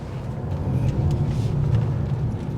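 A 2024 Mercedes-Benz CLE450 coupe with an inline six engine accelerates in sport mode while merging into traffic, giving a steady, moderately loud low rumble heard from inside the car.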